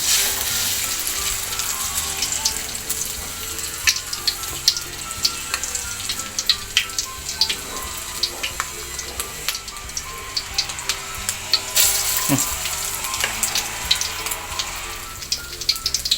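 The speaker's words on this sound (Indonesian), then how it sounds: "ini kita masukkan ke adonan telur tadi, langsung kita goreng" Potato perkedel patties dipped in egg batter fry in hot oil over low heat, a close, steady sizzle dotted with small pops and crackles, with no talking.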